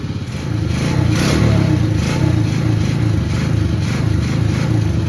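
A Chinese ATV engine with freshly installed wiring runs steadily at a loud, rough idle with slight pulsing surges, close up and alone.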